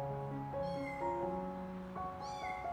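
A young tabby kitten meowing repeatedly at close range, thin high-pitched cries rising and falling over a steady low background hum.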